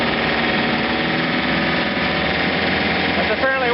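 A John Deere 110 TLB's snow blower is driven hard at high RPM, about 540 on the power take-off. Its loud, steady engine roar and whine run continuously and close, with no speech over it.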